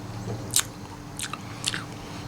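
Someone bites into and chews a raw Bradford pear up close, producing three crisp, separate crunches over a quiet background.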